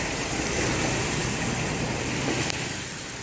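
A 2012 Ford 6.7 diesel engine runs steadily in a close, even broadband drone with a single sharp click near the end; no distinct cough stands out and nobody talks.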